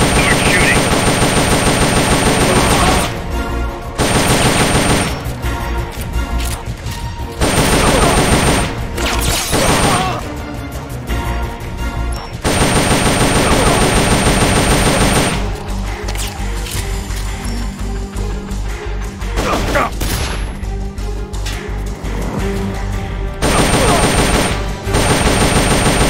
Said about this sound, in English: Get in there and just start shooting.